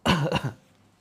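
A single hoarse cough, close and loud, trailing into a brief throat-clearing rasp, then quiet.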